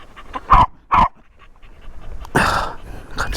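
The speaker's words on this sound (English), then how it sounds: "It's a really piercing bark, and it can drive you a bit nuts at times." A dog gives two sharp, piercing barks close by in quick succession, then a longer, rougher bark after a short pause.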